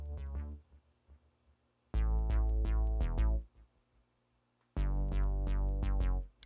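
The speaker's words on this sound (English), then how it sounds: "this res and growl bass is kind of nice too for like a quasi dubstep sort of thing" A resonant, growling synth bass plays quasi-dubstep riffs in a crunchy electronic track, loud pulsing bursts of repeated plucked notes separated by short gaps, with no voices.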